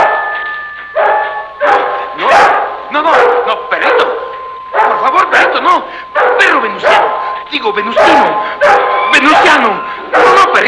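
A dog barks and yips in repeated bursts, loud and close, mixed with excited shouting in an old Mexican comedy film scene.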